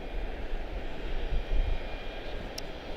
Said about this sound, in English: Looks like United Express touching down back on the other side.